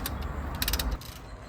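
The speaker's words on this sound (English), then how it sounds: "So you ratchet back the brake piston just like this, while also monitoring the level of the brake fluid" Ratcheting tool clicking steadily as it pushes a car brake piston back into its caliper, a close, rapid series of mechanical clicks with no talk.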